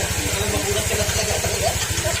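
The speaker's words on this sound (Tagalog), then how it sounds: "dapat umiinit to pandarin nyo muna hanggang sa maramdaman nyo mainit na yung makina" A Honda Click scooter engine idles while warming up, a close, steady low putter with a fast regular pulse and no voices.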